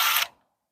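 Bolt being removed from a Harley-Davidson rear brake pedal during a master cylinder rebuild: one short, close metallic ratcheting burst lasting a fraction of a second, then silence.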